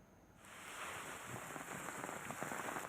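Rain with hail coming down steadily in the Nainbagh area of Uttarakhand, a dense hiss of drops and pellets on surfaces that starts softly, then swells and holds loud with no voices.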